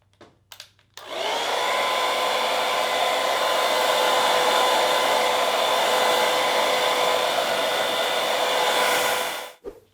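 Hair dryer set to high heat and medium fan speed while styling hair, switching on after a few clicks and then blowing as a loud, steady whoosh with a constant whine before cutting off.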